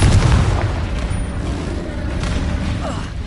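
A Confringo fire spell explodes in Hogwarts Legacy, a heavy boom at the start that decays into a rumbling tail amid combat noise.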